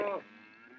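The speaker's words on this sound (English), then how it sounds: "you get a bunch of cattle together" A single cow lows during calf branding and dehorning at a cattle roundup, one loud close moo that breaks off abruptly into quiet.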